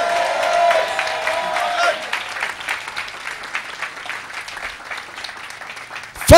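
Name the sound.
congregation applauding in church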